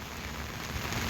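Heavy rain pours steadily in a dense, even hiss of drops hitting surfaces, loud and constant with no voices.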